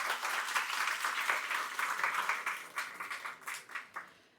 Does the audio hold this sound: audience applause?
yes